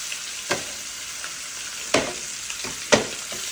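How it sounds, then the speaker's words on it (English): Oxtail pieces sizzle in an oiled pan with a soft continuous frying hiss, broken by three sharper crackling bursts as pieces are laid down, fairly quiet and close. "The sizzle."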